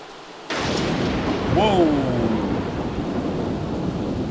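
Thunderstorm in The Sims 3 during a festival scene: a sudden loud broadband crack of thunder with steady rain-like rumble continuing underneath, plus a brief higher whine midway.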